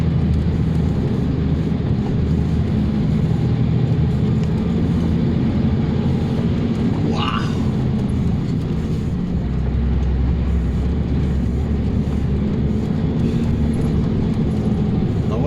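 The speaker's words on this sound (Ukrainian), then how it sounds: "Сорок шість тонн важимо, їдемо під горку. Газ до упора нажатий." A heavy truck loaded to 46 tonnes climbs a hill at full throttle, heard from inside the cab. Its engine gives a constant, loud, low drone for the whole stretch, with a short, faint whistle-like sound in the middle.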